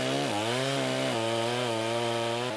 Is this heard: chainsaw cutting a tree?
yes